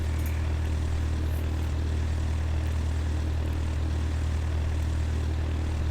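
Small propeller airplane cruising at high altitude on a flight from Jackson Hole, Wyoming, toward Yellowstone: a steady, loud, droning engine hum with a deep low rumble, unbroken and even throughout with no voices.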